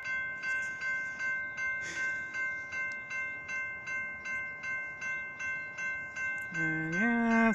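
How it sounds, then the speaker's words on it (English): An Amtrak Talgo passenger train passes northbound in fog, its wheels beating a steady rhythmic clatter over rail joints before a loud, sustained multi-tone horn blast sounds near the end. "It is a northbound talgo train."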